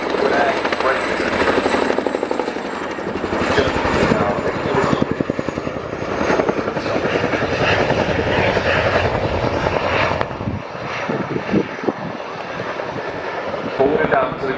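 A military jet at an air show roars loudly and continuously as it rapidly decelerates, its engine noise close and dense. A commentator talks over it.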